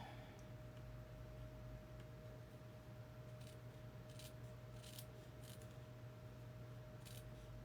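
Scissors snip through stitched quilt fabric blocks in a series of crisp, quick cuts near at hand, over a steady low hum, with no talking.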